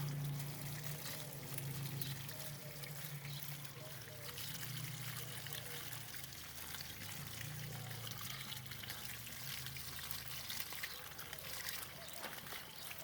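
Water runs steadily over potted plants as they are rinsed and soaked, a continuous faint trickle and splash with speech-like murmur beneath it.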